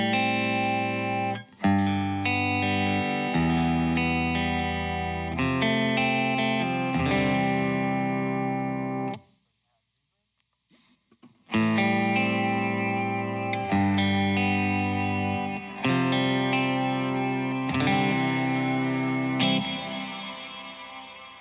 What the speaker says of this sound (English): just pick something totally dry, and then I'll go ahead and pick something with some reverb